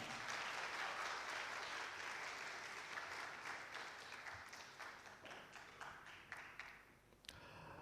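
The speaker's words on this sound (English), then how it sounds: "Please, everyone, all the students, especially, a big round of applause for Sir Ammar Habib Khan." An audience applauds at an academic panel discussion on AI, sustained dense clapping from a room of students that slowly thins and fades over several seconds, heard at a moderate distance.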